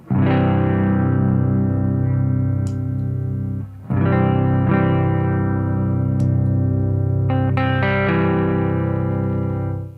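TC Electronic MojoMojo overdrive pedal on electric guitar: chords ring out thick and sustained, struck twice with a brief gap between, then more notes layered on top.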